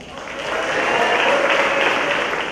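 Steady, dense applause from an audience at a high school senior awards ceremony, sustained and fairly loud throughout with no gaps between claps.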